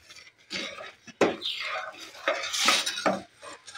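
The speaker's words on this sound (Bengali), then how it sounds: "খানিকটা আমি নাড়াচাড়া করতে থাকি" Spoon stirs cooked rice payesh in a pot, with repeated close scrapes and clinks against the metal in an uneven rhythm and soft swishing in between.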